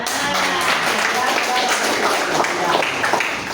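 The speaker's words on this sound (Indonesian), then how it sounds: "Tepuk tangan dulu." Scattered clapping from an audience of teachers and pupils at a junior high school assembly in Bulukumba, steady and mid-distance over a roomy hall wash, with voices mixed in.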